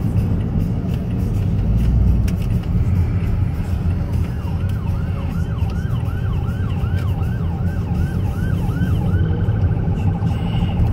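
An ambulance siren wails in repeated rising-falling sweeps from a few seconds in, heard from inside a car over steady road and engine rumble, moderately close and then fading slightly.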